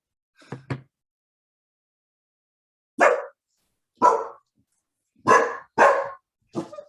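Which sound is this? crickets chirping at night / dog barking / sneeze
dog barking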